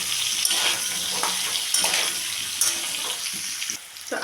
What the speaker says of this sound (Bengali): তো আলুটাকে কিছুটা ভেজে নিয়েছি